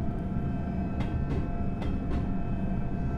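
A Class 385 electric train in Train Sim World 3 running on the ScotRail Edinburgh–Glasgow line, with a low steady rumble, a faint whine and several sharp clunks from the rails, and no talking.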